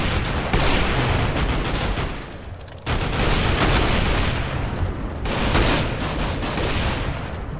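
Rapid bursts of gunfire fill a round of CS GO played in a Minecraft mod, loud and dense with a short lull before the shooting resumes, plus a heavy blast from a thrown grenade.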